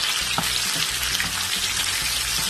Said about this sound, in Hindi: इस प्याज को थोड़ा सा सौते करेंगे